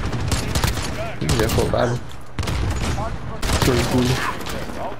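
Rapid bursts of gunfire from a multiplayer shooter video game crackle in dense, repeated volleys, close and loud, with excited voices talking over the shooting.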